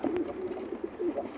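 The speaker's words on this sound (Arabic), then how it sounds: "هاي بقية الطيور خويا، هاي بقية الطيور اللي وصلت" Pigeons coo inside their coop, a close, soft run of low throaty calls that repeat in rolling phrases with no talk over them.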